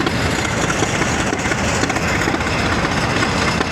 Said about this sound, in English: Prairie tractors are plowing.